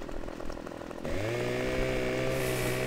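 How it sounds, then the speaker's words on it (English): A chainsaw in the Farming Simulator 15 video game revs up partway through and then runs at a steady, loud, buzzing whine while cutting tree branches, heard alone without talk. "you can just go ahead and move your chainsaw over the top of, and they magically disappear"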